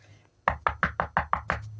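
Knocking on a wooden door in Minecraft: seven quick, evenly spaced knocks, close and loud, heard alone without talk.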